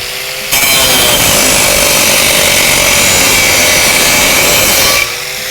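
A grinder fitted with an HDII diamond-impregnated steel plate cuts steadily for about four and a half seconds, a loud, harsh, even grinding roar that starts and stops abruptly.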